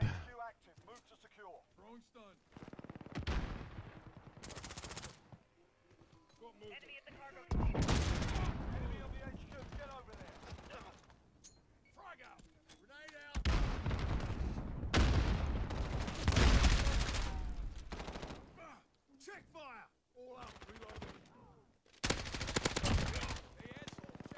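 Loud bursts of gunfire from the video game Modern Warfare (2019) come in several separate volleys, with quieter gaps between them and voices talking throughout.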